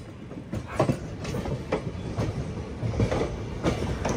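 The Maharashtra Express, hauled by a WAP-4 locomotive, rolls through Nagpur Junction with a steady rumble and repeated wheel clatter over rail joints at moderate distance.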